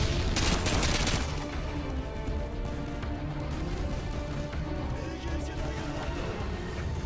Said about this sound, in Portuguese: Jogo granada aqui.